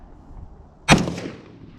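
A single loud, close rifle shot fired through a scope zoomed to 3x, a sharp crack followed by a rolling outdoor decay, no voices.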